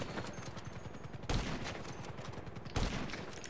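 A minigun in GTA V fires a continuous fast, rattling stream of gunfire, with two heavier thumps punching through partway; the sound is steady and moderately distant throughout.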